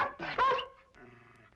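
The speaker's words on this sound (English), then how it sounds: "happened to the dog? I'm afraid I hurt him." A hurt dog lets out a few sharp yelps and whimpers, then a low whining growl trails off, close by.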